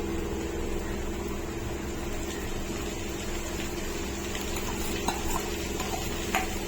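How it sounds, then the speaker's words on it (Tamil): Sliced onions sautéing in a pan for prawn thokku, a soft steady sizzle under a scraping stir, close and continuous. "அதையும் நம்ம லைட்டாக வதக்கி எடுக்கலாம்."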